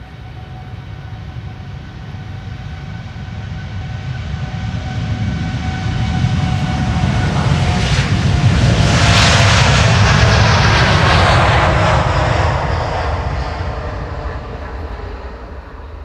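KLM jet airliner taking off from Schiphol's Polderbaan runway, a loud engine roar that builds, peaks as it passes close by with a broad rushing sweep, then slowly fades, no talking.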